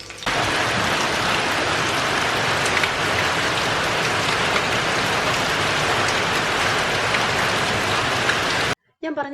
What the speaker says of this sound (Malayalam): കറക്റ്റ് ഉച്ചയാവുന്നതിന് മുമ്പ് തന്നെ മഴ തുടങ്ങി.